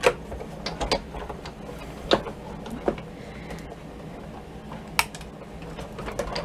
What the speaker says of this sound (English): So now we'll cut the Calypso coral balloon.